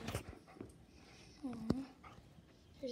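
A pet dog whimpers and yips excitedly as its owner arrives home indoors, with a few short, high whines and one sharper yip, fairly faint and close.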